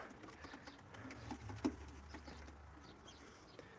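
Young pigeons in a wire-mesh aviary, soft low cooing and faint rustling over a quiet, steady background with a single brief louder note midway.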